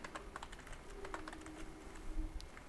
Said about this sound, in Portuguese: se eu vier aqui nesse momento e digitar npm